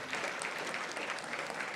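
Steady audience applause fills a hall during an awards ceremony for nonprofit organizations, a dense, even wash of clapping from many hands with no voices on top.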